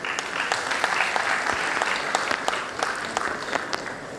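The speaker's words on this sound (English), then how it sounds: "Can we please have a huge round of applause for all our batchmates?" Applause for graduating batchmates at a medical college convocation ceremony, a steady wash of clapping from a large hall audience that holds an even level throughout with scattered sharper claps standing out.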